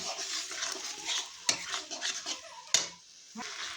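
Cauliflower and potatoes frying in a pan are stirred with a steady scraping sizzle, marked by two sharp metallic clanks of the utensil against the pan, close and fairly quiet.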